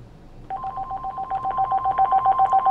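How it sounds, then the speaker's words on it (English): A telephone rings on a live radio call-in show: after a brief quiet moment, a steady electronic ring starts, pulsing rapidly and evenly at a fairly loud, close level. "the phone is ringing already"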